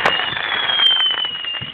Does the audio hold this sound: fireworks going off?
yes